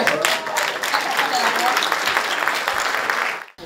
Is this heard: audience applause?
yes